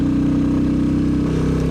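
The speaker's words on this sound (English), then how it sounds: "I can also hear my engine and" A motorcycle engine idles steadily up close, with a deep, throbbing exhaust rumble throughout.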